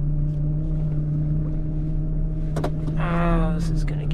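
A tow truck's power take-off runs as a steady low mechanical hum with a constant tonal whine, idling throughout, briefly joined by a short burst of talking near the end.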